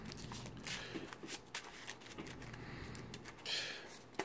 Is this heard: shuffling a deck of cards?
yes